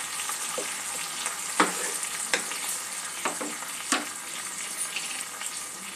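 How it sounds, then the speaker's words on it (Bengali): Onion, ginger and garlic paste sizzles and fries in oil in a pan for a Bengali fish curry, a steady crackling with a few sharp scraping stirs of a spoon. "একটু ভালো করে কষিয়ে নেব পেঁয়াজ আদা রসুনটা, যতক্ষণ না এর কাঁচা গন্ধটা চলে যায়।"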